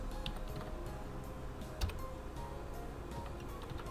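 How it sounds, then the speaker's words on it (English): Fingers typing a phone number format on a computer keyboard, a quiet run of light irregular key clicks close by, with one slightly firmer tap midway. "I'm going to type in the format that I want to use for that number"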